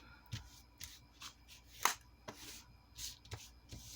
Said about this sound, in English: And then you can pick it up again, crumple it up, and just really work the conditioner in there.